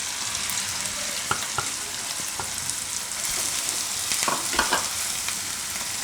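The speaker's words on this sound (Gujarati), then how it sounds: "લસણને થોડીક વાર આમાં પકાવશું તેલમાં." Green garlic and red chilies fry in hot oil with a continuous crackling sizzle, broken by sharper pops and stirring scrapes, close and fairly loud with no talk.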